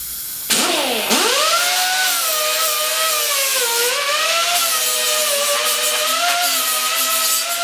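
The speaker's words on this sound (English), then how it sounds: "Just a die grinder with a 60 grit pad on it." A die grinder fitted with a 60 grit pad deburring freshly cut metal for a blade sign hanger: a close, continuous high whine that dips and rises in pitch as the pad bites, with gritty rasping over it.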